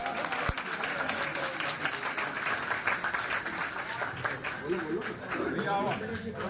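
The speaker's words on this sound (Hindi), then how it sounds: "आप लोग तालियों से स्वागत करें" Applause from the gathering welcoming a newly elected president as he takes the chair, sustained crowd clapping for several seconds with faint voices mixed in beneath the hands.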